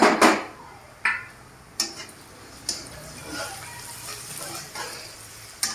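Onions frying in a pan for a Bengali cauliflower, egg and potato curry, giving a soft steady sizzle with a few sharp utensil clicks and scrapes spaced through it, heard close with no talking.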